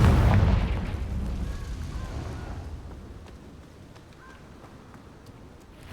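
A Confringo spell explosion in the Hogwarts Legacy video game: a loud, booming blast at the start that decays into a long rumbling tail fading over several seconds.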